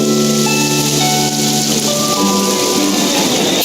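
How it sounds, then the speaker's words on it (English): Steady rain falls throughout a scene in the video game Genshin Impact, a continuous broadband hiss with sustained musical tones and soft music layered over it, loud and even from start to finish. "It rained for longer than I suspected."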